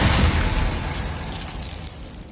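The Glacius ice spell in Hogwarts Legacy lands with a loud, crackling burst of shattering noise that fades gradually over a couple of seconds.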